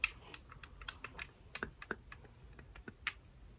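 Sharp, irregular clicks and light taps of flute keys being pressed, close and crisp with brief pauses between.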